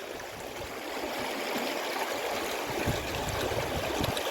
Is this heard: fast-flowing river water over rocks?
yes